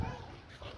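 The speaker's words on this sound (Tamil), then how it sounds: "நாய் கத்துது" A dog barking and yelping nearby, short sharp calls at the start with a whimpering edge, while a person talks over it.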